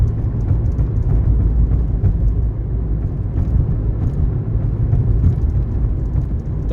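A car driving along a UK motorway near the M40, tyres rolling over a raised strip in the road, giving a loud, steady low road rumble with a faint rhythmic thrum throughout and no talking.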